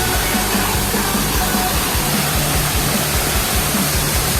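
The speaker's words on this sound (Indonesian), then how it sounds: "air terjun." A waterfall on the Mount Aseupan hiking trail roars as a loud, constant rush of falling water, close and continuous with no talking.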